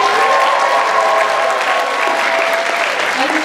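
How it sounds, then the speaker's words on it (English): A crowd applauds performers at the close of a Chinafest 2023 college dance event, a loud, sustained wash of clapping that fills the space evenly from start to finish. "can we get a round of applause for all of our performers today?"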